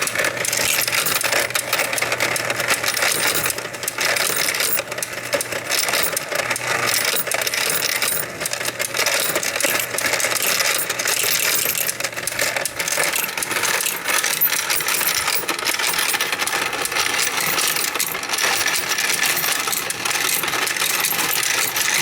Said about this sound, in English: there is a clicking sound that you'll hear while the machine runs